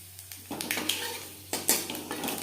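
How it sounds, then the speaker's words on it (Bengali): Panch phoron five-spice seeds hitting oil left from frying fish, with a crackling sizzle broken by a couple of sharp metallic clanks of utensil against pan, close and moderately loud. "মাছ ভেজে নেওয়া তেলে দিয়ে দিলাম 5 ফোড়ন।"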